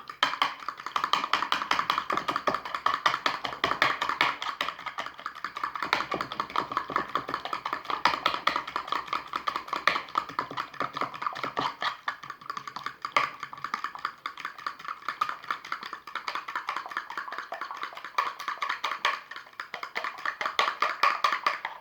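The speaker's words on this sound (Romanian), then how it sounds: "Și acum vom bate ouăle." Eggs being beaten in a bowl for a quick breakfast, a fast steady stream of light clicking taps from the whisk, continuous and close for the whole stretch with no talking.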